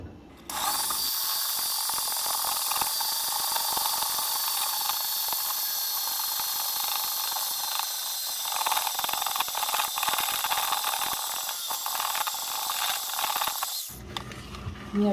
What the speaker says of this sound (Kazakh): миксерлейтін боламын